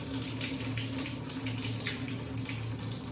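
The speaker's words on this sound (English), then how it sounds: "Time to wash the ginger." Tap water runs steadily into a sink while ginger is washed, a continuous close splashing hiss with no pauses and no voices.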